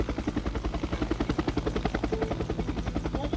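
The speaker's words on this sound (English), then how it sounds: "You can skip the helicopter sequence, but hey, this is the first time we're going to watch it" A helicopter from the Jagged Alliance 2 game sequence beats with rapid, even rotor thumps and a heavy engine drone, loud and close throughout with no talk.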